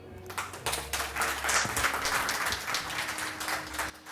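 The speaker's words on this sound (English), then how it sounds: "there's a very good round of applause for Andrew" Audience applause for Andrew Douglass, founder of Parallel Lifestyle, after his talk on an inclusive society, steady dense clapping from a crowd filling the room for about four seconds with a low hum beneath.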